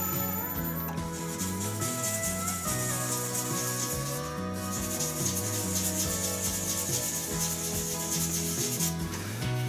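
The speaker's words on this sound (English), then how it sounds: "I'm just again going to go through and just give this a little bit of a light sand" A wooden shaving brush handle gets light sanding, heard as a continuous close rubbing and scratching that stays fairly even throughout, with a steady background hum and no speech.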